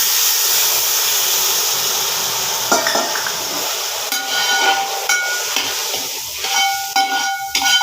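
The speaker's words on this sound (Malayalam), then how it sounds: "നല്ല ചൂടുള്ള വെള്ളം ഒഴിച്ചു കൊടുക്കാം" A loud, steady sizzling hiss as hot water hits a hot pan of fried vermicelli, with a few soft clinks near the end.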